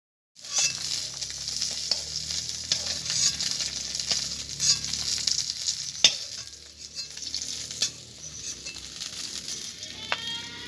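Fish frying in hot oil for a Bengali fish curry, a steady close sizzle with scattered crackles and pops throughout, a few sharp spatters standing out, no talking.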